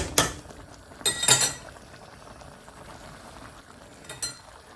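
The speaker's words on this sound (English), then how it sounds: "stir your noodles" Noodles being stirred in a cooking pot with a utensil, a few sharp metallic clinks and scrapes against the pot standing out over a quiet, bubbling background.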